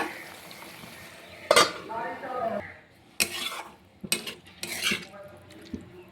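A cooking pot of vegetables for shorshe paturi is covered with its lid, giving a few distinct metallic clanks and clinks over a faint sizzle, with someone talking between them.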